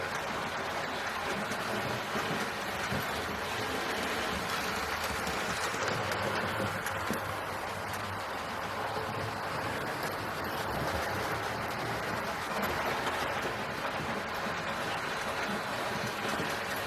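A Hornby rebuilt West Country class model locomotive, Padstow (R2708), runs along model railway track, giving a steady, even, smooth running hum and rumble that continues unbroken throughout, with no voices.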